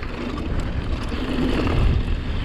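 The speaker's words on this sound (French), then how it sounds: "Il y a du vent, il y a du vent." Steady wind buffeting the microphone during a mountain bike ride, a continuous low rumble and broadband roar that swells slightly toward the end, with no voices.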